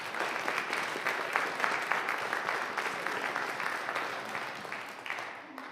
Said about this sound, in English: let's give another round of applause for Professor McGrath